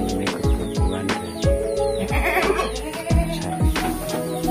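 Goats bleat several times in short, quavering calls, with rhythmic music running steadily behind them.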